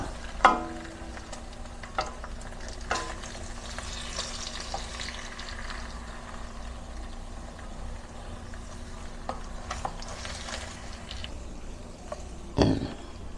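Pork ribs sizzling in a pan, a steady continuous frying hiss with occasional clinks and stirring knocks, close and moderately loud, with no talking.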